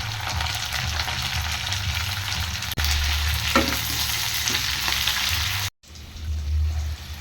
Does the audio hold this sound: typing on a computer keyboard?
no